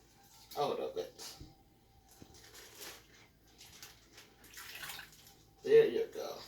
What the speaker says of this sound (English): So I'm going to just pour a little water in and get all the good stuff out of it.